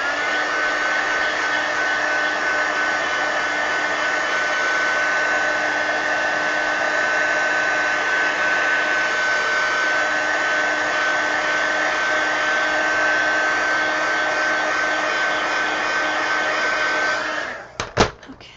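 A hair dryer blows on wet paint in a mixed media altered book, a loud, unbroken whine lasting about seventeen seconds before it cuts off with a couple of clicks and handling knocks.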